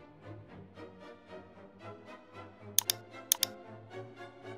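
Computer keyboard keys are tapped in a quick irregular run of soft clicks at close range, with a few sharper, louder keystrokes in the middle and low background hum.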